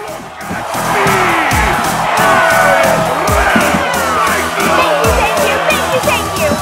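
A loud crowd cheers continuously in a Street Fighter 5 game arena, with engine roars and skids layered over the noise.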